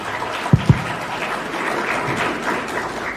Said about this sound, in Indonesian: sama-sama kita berikan aplaus yang meriah untuk Bapak Anies Rashid